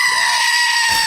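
A goat bleats as a short comic sound effect, loud and close over a steady high-pitched tonal bed, lasting about a second with no talk.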